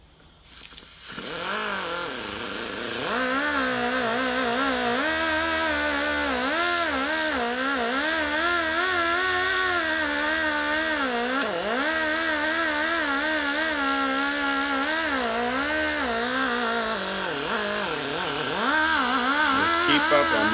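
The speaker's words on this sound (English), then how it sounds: "use your cross buff with the WD-40 to polish your aluminum throttle bodies" Cross buff spinning at moderate RPM with WD-40 to polish an aluminum truck throttle body; a steady, loud whirring drone with wavering pitch runs continuously after a brief start, with no talk.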